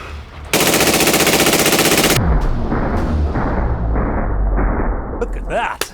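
Suppressed 5.56 NATO rifle fired through a titanium B&T SRBS-Ti suppressor, dumping a full 30-round magazine in one rapid, loud, continuous burst, followed by a ringing tail and voices.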